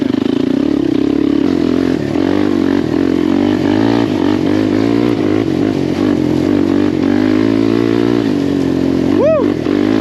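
A Suzuki LTZ 400 quad's engine revs loudly and steadily for the whole stretch with a rough, clattering tone, then a rising whine near the end; a voice may be speaking underneath.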